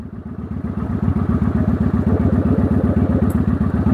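A motorcycle engine revved on the throttle with the clutch held in while in first gear: close, steady rapid engine pulses rising slightly in loudness, with no talking.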